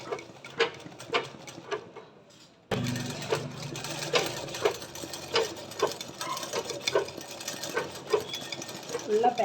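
A sewing machine doing machine embroidery on a flower petal runs with rapid, steady stitching that stops briefly, then resumes at a denser, continuous pace, with a voice talking faintly underneath.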